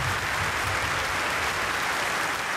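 Standing delegates at a PASOK party congress applaud in a sustained, dense wave of clapping that fills the hall steadily from start to finish, with no voices rising above it.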